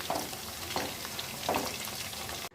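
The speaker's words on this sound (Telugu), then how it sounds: "చికెన్ని ఇలాగ ఆయిల్ ఫ్రై చేసుకోవాలి." Chicken pieces frying in hot oil in a kadai for restaurant-style chicken 555, a steady broadband sizzle with soft bubbling bursts, close and fairly even, no voices.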